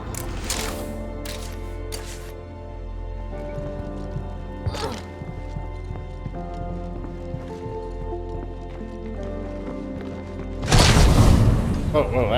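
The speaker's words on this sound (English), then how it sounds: "Random bloater explosion." Bloater zombie bursting in State of Decay 2, a sudden loud, broad blast near the end after a long stretch of game ambience and scattered thuds.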